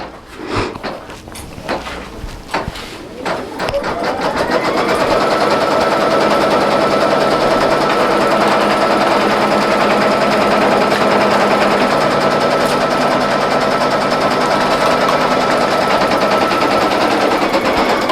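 Single-needle embroidery sewing machine stitching the tack-down around the outer edge of a round appliqué mug rug in the hoop, starting with a few separate clicks, then a steady loud rapid mechanical chatter.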